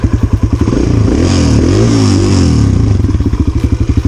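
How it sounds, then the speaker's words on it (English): An electric-start dirt bike engine idles close by in a loud, rapid, even chug, swells into a brief rev in the middle, then settles back to its pulsing idle. "So we have to flip this switch, hit the power button, and now the bike is on."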